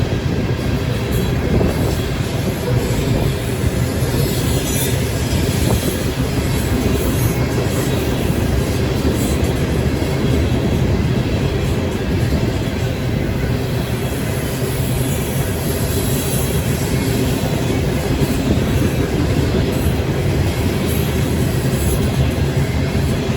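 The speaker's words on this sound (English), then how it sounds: "Our next NS eastbound train of the day will come very shortly after that CSX manifest passed, which would be an NS unknown grain train" A Norfolk Southern eastbound grain freight train rolls past close by, a loud, steady roar of wheels and cars with faint rhythmic clicking and occasional squeal, sustained without a break.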